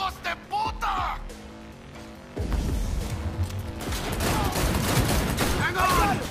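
Gunfire in the video game Cyberpunk 2077: a sparse opening with a few sharp reports and speech, then a sustained barrage of rapid shots and clattering impacts from several directions, with voices talking over it.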